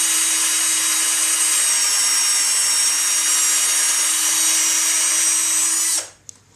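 A power drill drilling into wood whines steadily and loudly for about six seconds, then stops abruptly, leaving near silence with a small knock.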